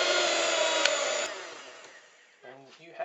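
An electric hand mixer on a low setting whirs steadily through salted caramel buttercream, loud at first and then fading as it slows and stops, followed by a brief voice.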